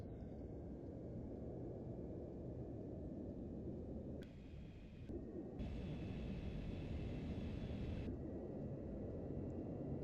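Lockheed L-1011 jet engines in a flight simulator spool up toward takeoff thrust, a steady broadband roar that swells and brightens partway through, with a brief dip before settling into a sustained, louder rumble.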